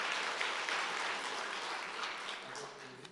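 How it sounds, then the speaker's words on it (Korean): A church congregation at a Sunday service applauds an elder on his retirement, a steady, moderately loud wash of clapping that fades slightly toward the end. "박수 한번 쳐주시죠"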